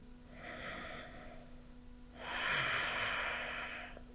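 Slow, controlled breaths during a headstand in an Ashtanga yoga class, two audible breaths close to the listener and fairly soft, the second one longer and fuller, with no talking over them.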